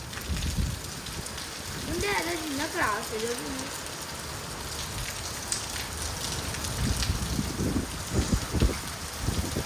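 Steady rain in Rajkot patters and hisses throughout, with a voice briefly heard partway through and some louder rumbling bursts near the end.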